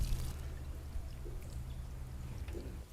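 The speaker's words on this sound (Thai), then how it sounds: "หลังจากที่เราเติมน้ำที่ผสมจุลินทรีย์เสร็จเรียบร้อย" Microbe-mixed water poured onto compost in a basket makes a steady, soft, continuous splashing wash, fairly quiet and unbroken throughout with no talking.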